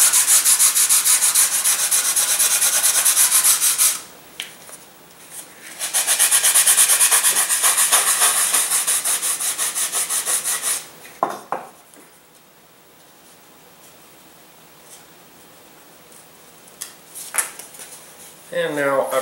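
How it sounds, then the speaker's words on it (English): Hand sanding a model aircraft aileron, two long bursts of close, raspy back-and-forth scraping separated by a pause, then quieter handling knocks and clicks. "So what we're going to do is we're going to sand in a little extra."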